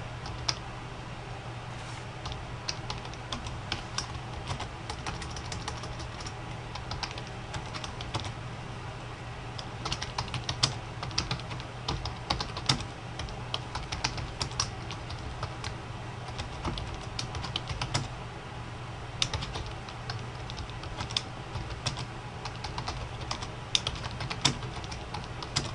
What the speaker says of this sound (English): we're going to highlight it and go ahead and type to replace it.